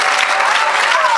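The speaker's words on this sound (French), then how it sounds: "Acclamez Jésus-Christ. Quelqu'un acclame pour Jésus." Church audience applauding throughout, a steady dense clapping that fills the whole moment at close range.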